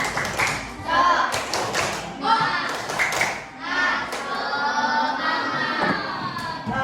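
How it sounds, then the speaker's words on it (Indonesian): A fifth-grade class performs the 'tepuk semangat' spirit clap, bursts of rhythmic hand claps and taps in quick patterned groups, mixed with children's voices and a teacher speaking. "tepuk semangat."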